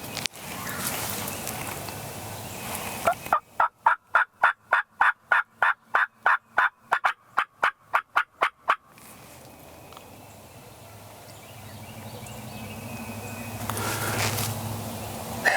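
Wild spring turkey gobblers in Tennessee or Virginia woods gobble in reply to a call, a burst of sharp rapid gobbles at middle distance between quiet stretches of forest ambience.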